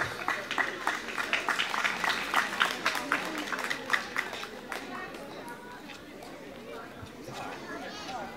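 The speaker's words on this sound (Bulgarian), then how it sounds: "Сега моля аплодисменти за Иво да..." Audience applause rings out at a Bulgarian Thracian folk festival gathering, a burst of scattered clapping that swells then fades into crowd chatter and murmuring voices.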